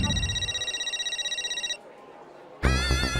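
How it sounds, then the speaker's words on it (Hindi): A phone ringtone trills in rapid, regular pulses for under two seconds, stops, and then a voice begins speaking nearby. "अरे बाप रे, माधवी का फोन, ये क्यों फोन कर रही है?"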